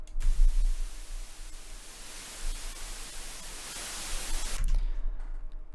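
Generated white noise, a steady broadband hiss that starts and cuts off abruptly, loud and alone.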